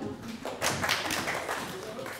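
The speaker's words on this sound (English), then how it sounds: "big round of applause for you all" Seminar audience applauding after a classical music exercise, a moderate burst of clapping that swells and continues steadily, with a few voices murmuring at the start.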